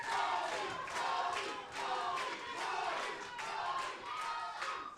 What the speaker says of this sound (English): And this crowd solidly behind David Goldie